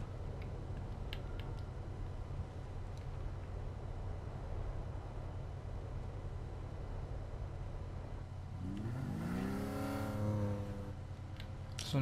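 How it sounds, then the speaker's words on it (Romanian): BMW M3 engine in the video game Need for Speed 2015, a low steady drone of background noise until a single rising rev swells and climbs in pitch near the end, with no talk. "Sunetul la motor nu prea s-a schimbat"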